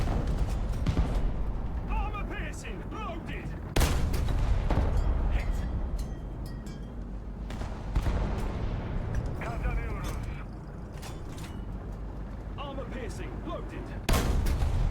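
Tank battle in War Thunder, with a few booming cannon blasts standing out over steady engine rumble and clatter, and someone speaking Turkish at intervals over the din.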